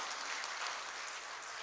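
Audience applause at an international mushaira poetry gathering in Jubail, a steady dense wash of clapping from a large crowd, continuous and fairly loud throughout with no voices over it.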